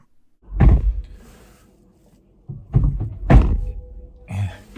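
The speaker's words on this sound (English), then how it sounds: "Door doesn't close properly, so he gave it another shove" A car door that doesn't close properly thuds shut, then after a pause is shoved closed again with a couple of heavier thumps and rattles, close by.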